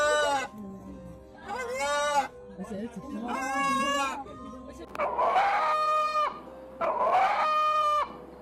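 A rooster's crows from a played recording, several long harmonic calls in succession, with the later ones rougher and harsher, heard up close.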